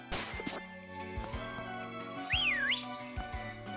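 A short rising-and-falling whistle from the player character in the Pokémon Sword video game, clear and up close over soft game music and tones.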